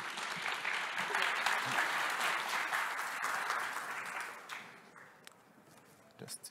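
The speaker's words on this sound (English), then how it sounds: "So please give a round of applause for our next speaker." Audience at a data science conference claps for the next speaker, a full steady applause that thins out and fades after a few seconds, leaving a few scattered sounds.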